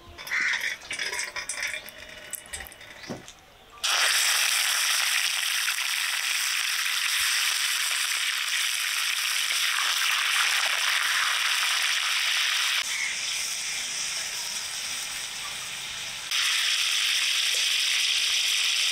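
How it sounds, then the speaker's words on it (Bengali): Chicken pieces frying in mustard oil in a karahi, a steady loud sizzle that swells sharply and holds as a dense crackling hiss, with clatter and stirring beforehand. "এবার ছেঁকে ছেঁকে মাংসগুলো ভেজে নেব।"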